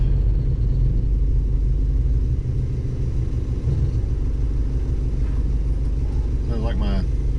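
A Gen 3 Hemi engine with fuel injection, swapped into a 1970 Dodge Challenger, idles and rumbles loudly and steadily nearby, while a person talks over the running engine.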